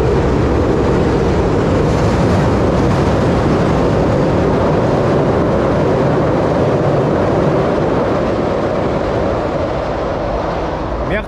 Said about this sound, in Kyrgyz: Мияктан поезд өтөт экен.